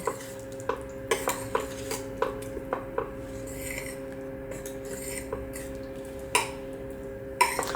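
A utensil scrapes and clinks against a metal pot in repeated irregular strokes while Kerala-style sambar is stirred, over a low steady hum.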